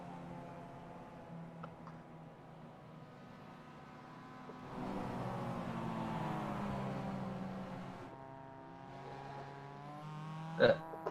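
A Porsche safety car engine drones and revs hard with rising and falling pitch at a club race day, fairly distant and muffled, ending in a sharp knock.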